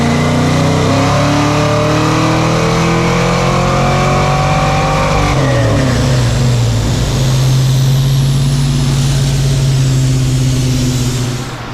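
A Foxbody car engine on a dyno with a 150hp nitrous shot revs very loudly and sweeps up in pitch, then drops to a lower steady drone. The roar is sustained and close throughout.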